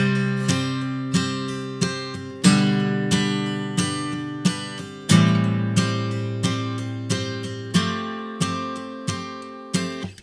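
Close acoustic guitar playing a worship song chorus with all downstrokes, firm strums in a steady pattern with some heavier accented chords and ringing sustain between them, unaccompanied and without speech.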